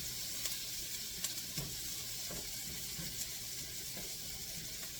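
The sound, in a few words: whole onions sweating in a pan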